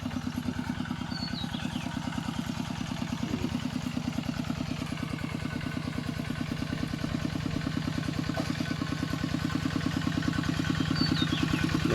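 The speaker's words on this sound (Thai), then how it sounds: "หลังจากใส่ปุ๋ยแล้วเราก็จะใช้รถไถเล็กนะครับ กวนดินตามร่อง" A small walk-behind tractor engine chugs steadily and continuously at close range, a rhythmic mechanical putter with faint clatter as it tills soil along furrows in a sugarcane field after fertilizing.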